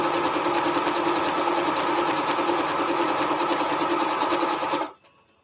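A sewing machine stitches fabric strips together for a Triple Irish Chain quilt, running as a loud, close, steady mechanical whir for about five seconds before stopping abruptly.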